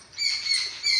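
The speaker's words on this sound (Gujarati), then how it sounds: "પક્ષીઓનો કલરવ છે અહીંયા" Birds chirp and twitter near a quiet hilltop temple, a steady high twittering chorus that swells after the opening moment and holds, moderately close, with no voices and no other noise.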